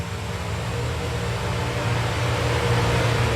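Race cars in the iRacing video game drone past in a steady, loud engine roar, a continuous broadband whine with a low humming undertone, no voices.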